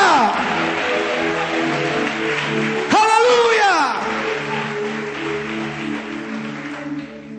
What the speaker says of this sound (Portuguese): diga aleluia, dê um aplauso a Ele e libere um grito de liberdade